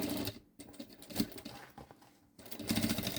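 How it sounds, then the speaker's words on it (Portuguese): A sewing machine topstitches a seam on a synthetic-panel drawstring backpack, running in a few short bursts of rapid, close stitching with brief pauses between them. "vou acertando e vou rebater uma costura"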